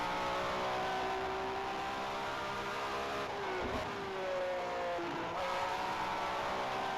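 Formula 1 race car engine from a racing video game, screaming at high revs with rising pitch sweeps and brief dips at gear changes, loud and continuous with no talking.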